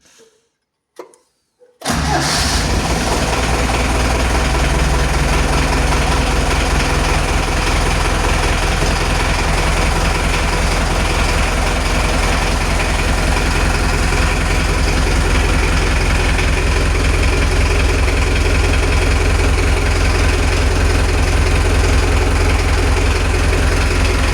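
A tractor engine catches after a brief start and then idles steadily and loudly close by, a continuous rumbling drone that holds for over twenty seconds with no talking.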